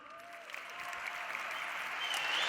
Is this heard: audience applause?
yes